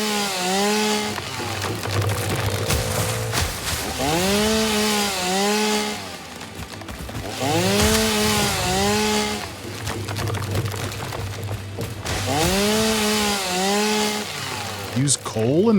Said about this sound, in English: And the chainsaw is very loud.